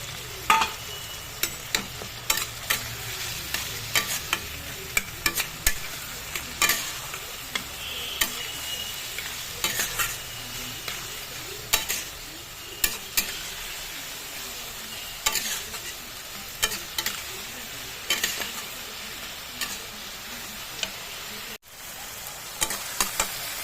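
Mushrooms with ginger-garlic paste, coriander, cumin, Kashmiri chilli and turmeric frying in a pan, a constant close sizzle punctuated by regular sharp scrapes and taps of a spatula stirring throughout.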